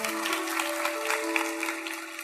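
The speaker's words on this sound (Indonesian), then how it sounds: "Berikan tepuk tangan bagi Tuhan." A church congregation claps during a sermon, a moderate steady round of applause with sustained organ or keyboard tones held underneath, fairly even in loudness.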